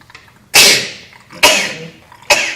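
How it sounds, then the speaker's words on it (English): Three sharp, loud sneezes or coughs burst out one after another, about a second apart, each quickly trailing off, in a quiet city council budget workshop room. "I can tell those are sneezes or coughs"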